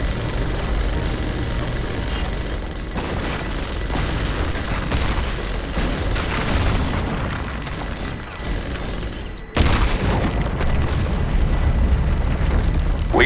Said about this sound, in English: We need to blow those rocks away before we can continue the mission.